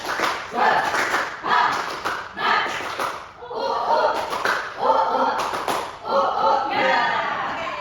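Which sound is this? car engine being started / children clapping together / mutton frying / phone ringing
children clapping together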